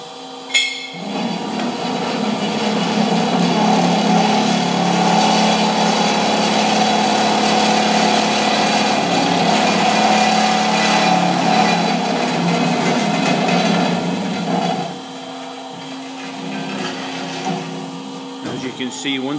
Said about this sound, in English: once the blade height is set, the machine always cuts through the material and then trips out when it's through the material